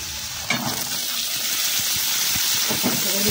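Cumin, mustard seeds, crushed garlic and red chili powder frying in hot oil, a steady loud sizzle with a sharp crackle early on and soft stirring taps throughout.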